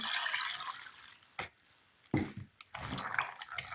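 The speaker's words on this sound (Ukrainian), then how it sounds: "Наливаємо сюди водичку." Water pours and splashes into a bowl of pumpkin seeds in short bursts, a faint trickle and drip between gurgling pours, close and fairly quiet.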